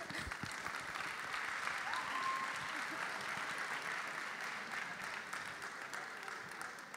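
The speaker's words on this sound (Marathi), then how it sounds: "साठी सगळ्यांनी परत एकदा टाळ्या वाजवूया आपण." Sustained audience applause at a Marathi radio programme event, a steady wash of many hands clapping throughout without a break, moderately distant with no voices standing out.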